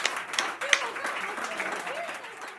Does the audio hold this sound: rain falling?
no